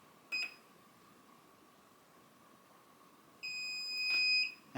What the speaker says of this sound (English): the long beep signifies that the remote control is now waiting for the receiver to be paired to that channel